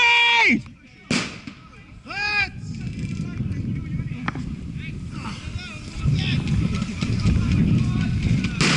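An airsoft smoke grenade pops with a sharp bang and then keeps hissing as smoke vents in an outdoor field game, while players shout nearby and wind buffets the microphone.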